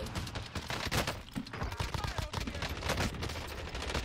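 Rapid gunfire in the video game Warzone, dense bursts of shots crackling throughout at moderate volume, with a player's voice talking over them.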